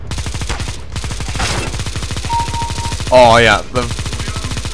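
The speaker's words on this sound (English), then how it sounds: "The machine gun just mows down people." Rapid machine-gun fire in Counter-Strike: Global Offensive rattles off as a loud, steady stream of close shots across the whole stretch, with a brief pause and a few short voiced words over the gunfire.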